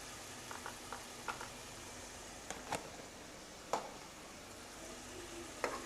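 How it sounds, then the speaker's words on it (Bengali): Onion paste with ginger garlic paste frying in a pan for masala paneer, a soft, steady sizzle broken by faint scattered spatula scrapes and clicks. "তারপরে অ্যাড করলাম আদা রসুন বাটা। এটাকেও 2 মিনিট ফ্রাই করে নেব।"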